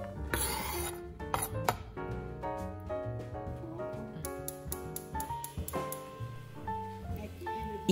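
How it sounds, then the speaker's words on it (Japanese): Chopped celery clatters into a metal pot for Bolognese meat sauce, a few light knocks and clinks, with music playing steadily underneath. "セロリもお鍋に入れます。"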